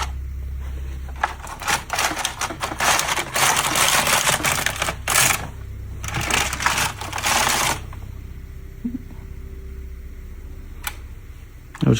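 A Hamanaka needle knitter knitting machine worked across its bed for two rows, giving bursts of rapid clicking and clattering carriage noise with quieter gaps, close and fairly loud, with no talking.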